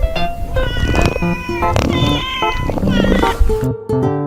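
A domestic cat meows repeatedly in several distinct, tonal calls, loud and close, with no other sounds.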